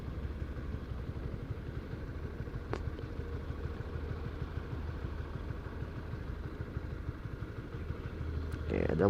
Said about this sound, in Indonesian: Oke, ada motor satu.